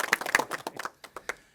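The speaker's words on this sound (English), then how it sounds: "I want to give them a big round of applause" An audience at a Sacramento event on combating sex trafficking gives brief scattered applause, a thin smattering of claps that tapers off quickly.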